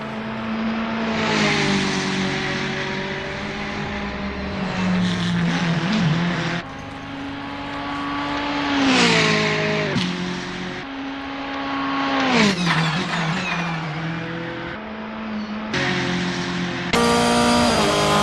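Volkswagen Scirocco Silhouette race car in the Assetto Corsa sim racing game, its engine loud and close, revving up and down through repeated gear changes with rising and falling pitch and no talk.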